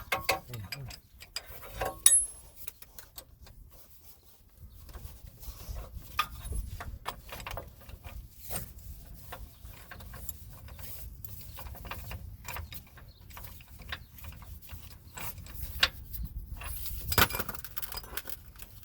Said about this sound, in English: time to change ratchet